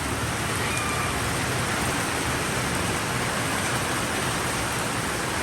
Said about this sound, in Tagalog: Binablog ko yung ulan.